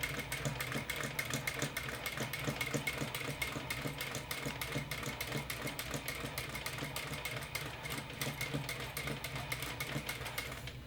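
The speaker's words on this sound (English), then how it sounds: "sew the larger red bands, piece R3, to the diagonal gold stripe, piece R4, with 5/8 inch seam allowance and using red thread" A sewing machine stitches red fabric bands to a gold stripe with red thread, running in a continuous fast, even rhythmic chatter at low volume without pause, and nobody speaks.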